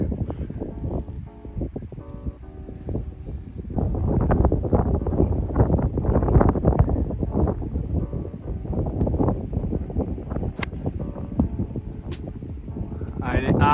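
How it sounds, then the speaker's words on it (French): Gusty wind buffets a golf course with broadband rushing noise that rises and falls in waves for the whole stretch, with voices faintly under it. "Le vent est contre."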